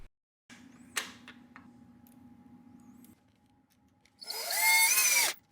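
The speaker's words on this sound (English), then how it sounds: "I'm intentionally driving the 4 screws away from the corner so that it pulls the miter tight" A power drill driving screws into a wooden plantation shutter frame, a short low motor whir followed by a louder, higher rising burst of drilling near the end.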